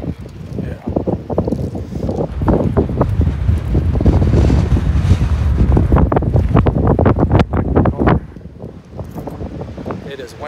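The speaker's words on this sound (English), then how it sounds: "Windy, windy, windy." Strong wind buffets the microphone outdoors in loud, gusting roars that swell and ease over several seconds, with brief speech underneath.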